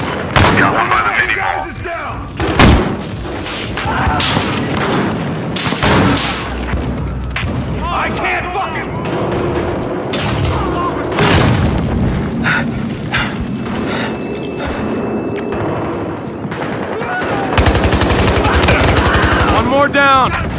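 Rapid bursts of automatic gunfire and heavy booms from a police-versus-criminals shootout in Battlefield Hardline, loud and sustained across the whole stretch, with voices calling out over the shooting.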